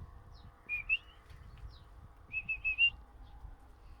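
A person whistles two short bursts of sharp rising notes, the second a quick repeated trill, outdoors against a quiet low rumble.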